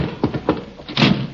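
A stuck door in an old radio comedy being shoved and forced, with a few dull knocks and thumps followed by a heavier scraping thud, close and brief.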